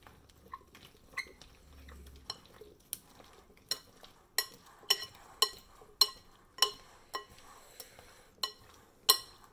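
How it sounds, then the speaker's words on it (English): Smashed cucumbers being stirred with Laoganma chili sauce and garlic in a bowl: a steady run of sharp utensil clinks and scrapes, growing more frequent and louder toward the end, close and alone. "Now we stir it up"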